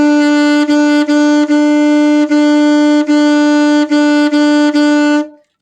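An alto saxophone plays a run of about nine tongued notes on one steady pitch, each one lightly articulated while the air never stops. The tone is loud, close and bright, with no talking, and it ends cleanly.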